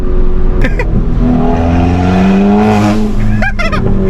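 A Volkswagen MK7 Stage 2 car engine roars loudly up close, with rising whining tones from the turbo spooling over the constant rumble and brief clicking noises.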